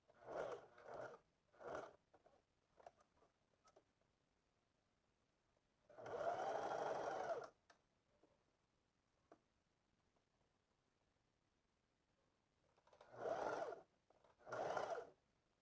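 A sewing machine stitches a 1 cm crotch seam on elastic-waist shorts in separate bursts: a few quick short runs, a longer steady whir midway, then two more runs near the end, close and quiet with silence between and no voices.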